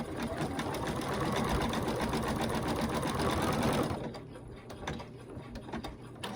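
A sewing machine stitches a ghost peek-a-boo treat bag with a steady, fast mechanical whir and a rubbing from underneath. It runs loud and continuous, then eases to a lighter, softer running for the last couple of seconds.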